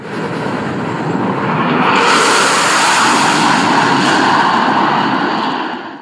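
A loud transonic jet airliner's engine roar swells in and holds steady as it passes overhead, then eases off slightly toward the end.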